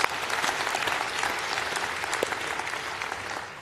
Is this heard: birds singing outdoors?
no